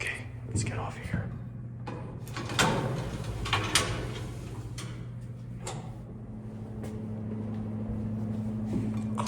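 An IECO independent gated elevator at Morgan Hall, UC Berkeley, lets its door slide shut with scraping clanks and a thud over a steady motor hum, while people talk nearby.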